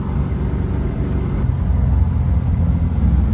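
A Simca Aronde break estate car cruising steadily at about 80 km/h, its engine giving a constant low rumble and hum with road noise from inside the cabin, and no talking.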